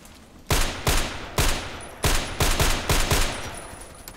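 Seven loud, evenly spaced gunshots ring out as a player fires at an enemy in a video game, each a sharp crack with a short decaying tail.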